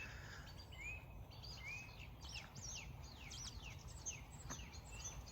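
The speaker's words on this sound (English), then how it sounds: "And listen to those birds." Birds singing in a garden on a spring evening, a run of repeated chirps and short downward-swooping whistles at moderate distance over steady low background hum, with faint insect buzzing; no one talks.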